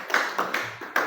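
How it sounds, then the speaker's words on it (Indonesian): A few people clap hands in a classroom during a micro-teaching session, a brief scattering of claps, moderately close, lasting about a second. "kasih tepuk tangan dulu"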